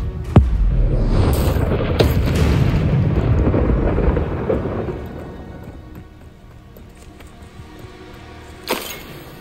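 A Bombarda blasting spell in the Hogwarts Legacy video game goes off with a loud booming explosion, followed by a long rumbling roar that fades over several seconds, and a sharp crack near the end.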